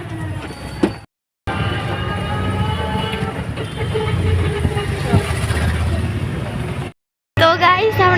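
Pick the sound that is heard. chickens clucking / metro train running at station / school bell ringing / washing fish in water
metro train running at station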